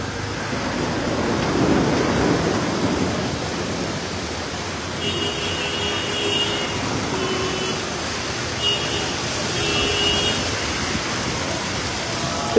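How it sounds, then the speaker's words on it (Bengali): Steady heavy rain with gusty wind and thunder in Dhaka, the hiss filling the whole stretch, with a low rumble underneath and a faint intermittent tone in the background. "প্রচণ্ড বৃষ্টির সঙ্গে কিন্তু দমকা হাওয়া বইছে"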